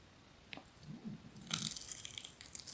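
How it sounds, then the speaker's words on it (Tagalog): Someone bites into crunchy food and chews, a few crisp crunching bites followed by close, wet mastication, quiet and near with no talk. "unang kagat para sa inyo."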